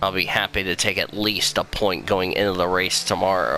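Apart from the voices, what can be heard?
No distinct noise like a dog, phone or traffic.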